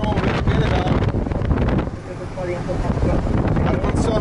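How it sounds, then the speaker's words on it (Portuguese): Wind rushing steadily into a truck cabin through an open roof hatch fitted with an air deflector, a continuous broadband roar that persists throughout, with faint voice in the background. "Mesmo com o refletor de ar, entra um vento bem legal."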